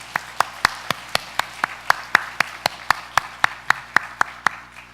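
A church congregation claps together in a steady, even rhythm during a worship service, about four sharp claps per second, moderately loud and continuing unbroken.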